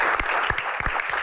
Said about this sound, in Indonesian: Akamsi, tepuk tangan dong Akamsi